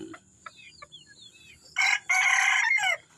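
Bantam chickens in a small backyard make a few soft scattered chirps and clucks, then a rooster crows loudly nearby in two bursts, the second one longer and sustained.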